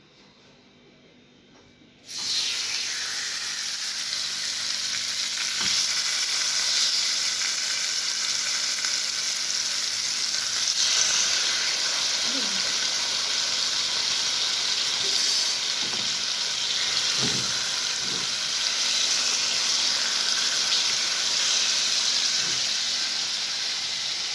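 Pork chops sizzling in a hot pot for a one-pot meal, a steady loud frying hiss that starts abruptly and carries on with occasional pops and crackles, with no talking.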